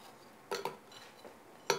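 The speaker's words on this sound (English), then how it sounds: "To make a drunk Hamantaschen, start with 4 ice cubes in a blender, 8 vanilla wafers" Four ice cubes dropping into a blender jar for a Purim cocktail, heard as a few sharp clinks and knocks, one pair close together and a final louder clatter, with no talking.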